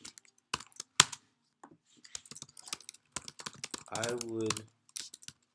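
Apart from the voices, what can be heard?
typing on a computer keyboard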